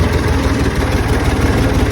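A tractor engine idles close by with a loud, low, rhythmic diesel throb that stays steady and unbroken, with no voices over it.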